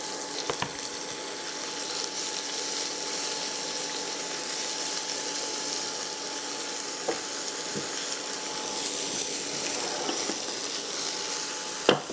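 Sliced onion sizzles steadily in a pan, a soft continuous frying hiss with occasional faint ticks and stirring sounds, no voices present.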